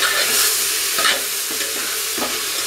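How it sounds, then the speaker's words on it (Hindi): Rice being stirred into cumin rice in a hot pan, a continuous scraping, sizzling stir with a few louder spoon strokes, close up and without talk. "उसके बाद इसमें हम चावल डालेंगे और इसे मिला देंगे"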